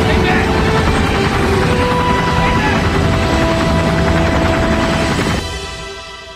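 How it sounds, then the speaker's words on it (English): A rescue helicopter flies loud and steady amid a dense roar, with rotor and engine noise filling the scene before dropping away sharply near the end. "Rescue copter's on the way."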